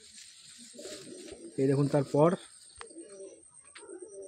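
A male Madrasi pigeon held in a loft coos in a few short, close bursts, with a louder run of coos near the middle, while someone talks around it.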